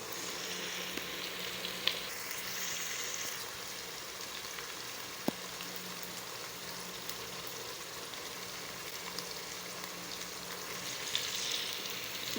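Pieces of meat for achar gosht sizzle steadily in a pressure cooker with onions and ginger garlic paste, a soft continuous hiss with occasional faint clinks of a spoon.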